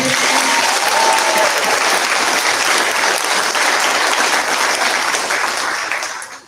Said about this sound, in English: Can we get one more round of applause for those two?